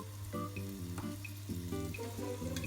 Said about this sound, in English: I just continue stirring it until the onion is translucent.